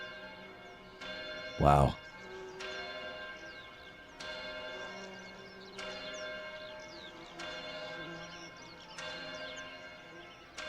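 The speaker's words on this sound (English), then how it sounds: "Brings a giant bell to their concert." A giant bell tolls repeatedly at a live concert performance, slow evenly spaced strikes ringing out with long sustained decays, and a person briefly exclaims over it.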